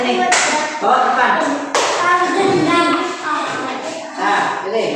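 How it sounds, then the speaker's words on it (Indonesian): A classroom group claps for a team of students, two short bursts of brisk applause close by, with children's voices chattering between and over the clapping. "Tepuk tangan untuk kelompok 1. Ayo tepuk tangan."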